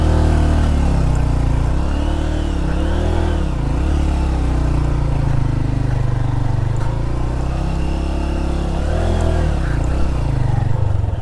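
A Honda CB150F motorcycle strains uphill off-road, its engine revving loudly with rising and falling pitch as the throttle works, a steady, close, labouring roar throughout.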